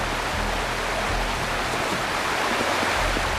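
Steady, dense rush of a waterfall in the video game Wuthering Waves, a continuous broadband roar of falling water with no breaks, loud and close.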